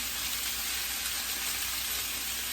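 Eggplant pieces fry in a pan with a steady, close sizzle and crackle that holds evenly throughout, with no voices.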